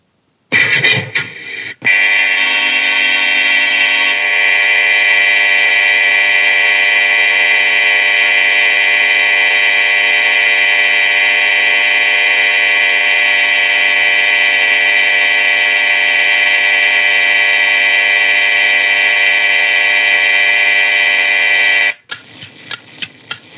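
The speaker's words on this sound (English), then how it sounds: "I am going to pull the fire alarm as a prank." A school fire alarm rings out loud and steady for about twenty seconds, a continuous harsh electronic buzz with a short burst at the start and brief noise after it cuts off.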